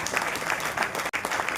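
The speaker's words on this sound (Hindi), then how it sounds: "अगर आप उनसे प्रेम करते हैं तो आपकी तालियां बजती रहेंगी" Audience applause greeting a guest at a Delhi bishops' council gathering, a steady dense patter of many hands clapping with a brief dip near the end.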